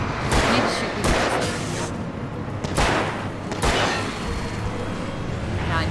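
Gunfire in the video game Alan Wake rings out in several sharp, loud bursts spaced a second or so apart, set against a steady game soundtrack.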